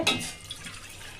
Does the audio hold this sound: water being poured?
yes